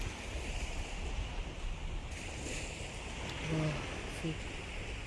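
Ocean waves washing onto a sandy beach at sunrise, a steady broad wash with gusts of wind on the microphone and faint voices in the background.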